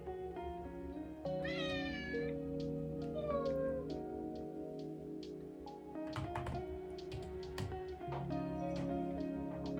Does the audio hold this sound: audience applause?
no